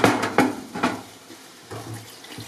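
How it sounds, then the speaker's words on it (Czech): Chopped octopus tentacles rinsed quickly under running tap water in a kitchen sink, with a few short splashing bursts near the start and softer, steadier flow later on. "Chapadla jsou pokrájená, nyní je jenom v rychlosti propláchnu ve vodě"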